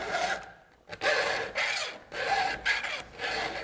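A file sharpens a chainsaw chain in close, even rasping strokes, about four pushes separated by short quiet pauses on the return.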